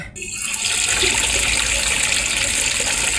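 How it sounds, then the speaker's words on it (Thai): Water pours loudly and steadily into a washing machine tub during a leaking-valve repair, a continuous close gushing rush that starts abruptly and holds without pause. "อ่านี่น้ำใกล้เต็มถังแล้วครับ"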